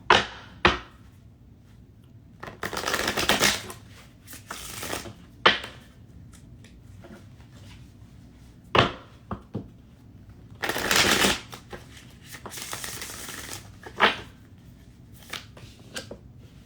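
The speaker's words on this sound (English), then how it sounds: "But I'm going to reshuffle." Tarot cards being reshuffled by hand, crisp riffling bursts in several bouts with scattered taps and snaps between them, close and fairly quiet.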